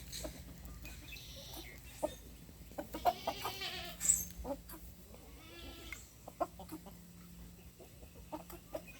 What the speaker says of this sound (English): There's the hen.